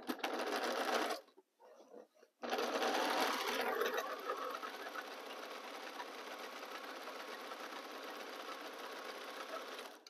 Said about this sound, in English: And I sew a quarter of inch around them.